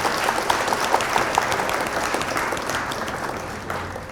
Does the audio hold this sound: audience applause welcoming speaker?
yes